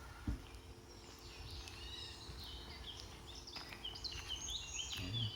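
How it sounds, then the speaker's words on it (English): Quiet outdoor ambience with scattered bird chirps and short song phrases, mostly faint and distant, over a low steady background. "It's so lovely to hear the birds singing."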